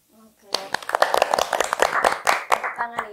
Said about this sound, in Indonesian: Tepuk tangan ya, pastinya bangga teman-teman ini gabung di wadah forum anak